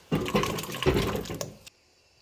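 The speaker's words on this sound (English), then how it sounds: "Let's go ahead and put them in our water." Potato cubes tipped into a big pot of hot water on the stove, making a splashy, sloshing burst that lasts about a second and a half and then stops abruptly, close and fairly loud.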